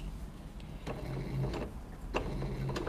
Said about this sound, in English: I'm going to sew right along the very top of my mask with my 1/4 inch presser foot right up against the cording